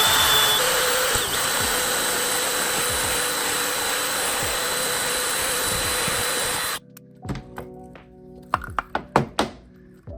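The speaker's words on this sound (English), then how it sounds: "Now that you got your holes drilled," A drill bores holes for an RC car subwoofer build, whining loudly and steadily for several seconds before cutting off, followed by a run of sharp clicks and knocks close by.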